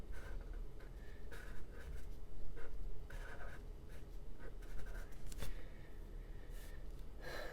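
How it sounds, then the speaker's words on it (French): A pen scratches steadily across paper while coloring in a drawing, continuous and close, with soft rhythmic strokes over a faint background hiss. "Ici on a juste à colorier."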